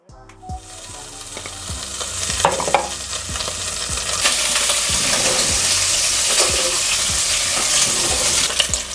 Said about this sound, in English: we're just gonna go ahead and hit the bacon.